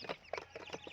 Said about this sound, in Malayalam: എനിക്ക് കുറച്ച് കോഴികളുണ്ട്